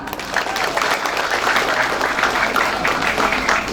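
Audience in a mosque applauding during a Maulid Nabi sermon in Bogor, a dense continuous patter of clapping from many hands.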